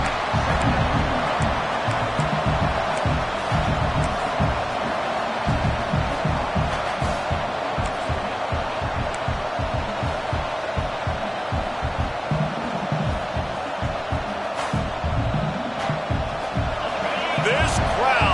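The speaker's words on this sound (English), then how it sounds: "This crowd, full throat, splitting the eardrums and letting them know it's going to be a long day." A packed football stadium crowd at a Wyoming game roars in a loud, continuous wall of noise, with rhythmic thumping and stomping, while a commentator talks over it.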